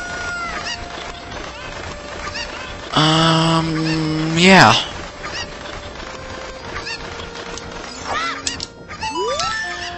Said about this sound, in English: I believe there's just one more cuckoo we need to get.